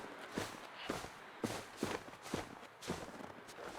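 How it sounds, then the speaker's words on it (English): Footsteps crunching in a survival video game with a wolf nearby, a steady series of soft, evenly spaced steps, fairly quiet and close, with no talk over them. "I feel like I hear footsteps."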